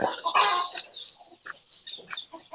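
Chickens clucking in short, scattered bursts, one louder squawk near the start followed by softer intermittent clucks, fairly close and with no talking.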